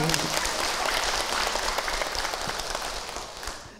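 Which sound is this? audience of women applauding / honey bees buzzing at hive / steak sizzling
audience of women applauding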